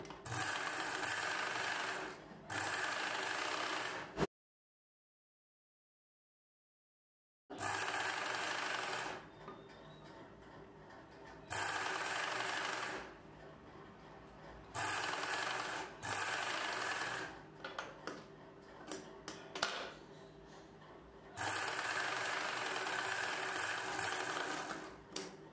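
A sewing machine stitching a blouse piece runs in loud, steady mechanical bursts of rapid whirring and clatter, broken by short pauses and one silent gap, up close with no voices.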